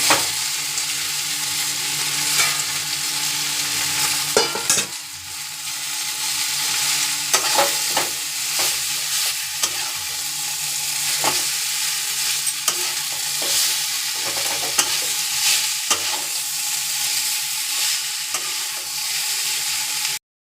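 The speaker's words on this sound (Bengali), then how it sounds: "এই যে আগে সেদ্ধ করে রাখা ম্যাগিটা এবার আমি ঢেলে নেব।" Pre-boiled Maggi noodles being stir-fried in a pan for home-style chowmein: a constant close sizzle with repeated sharp scraping and tossing strokes of a spatula against the pan, and no talking.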